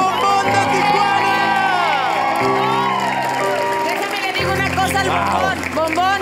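A studio audience at a televised music competition applauds and cheers a departing contestant, with loud continuous clapping and whoops under music and voices talking over it.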